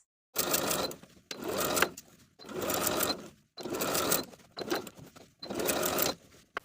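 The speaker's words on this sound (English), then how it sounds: "I'm going to zigzag stitch close to my finishing stitches all the way around for both legs" A sewing machine runs zigzag stitches along a stretch denim jeans hem in six steady bursts separated by short pauses, close and alone.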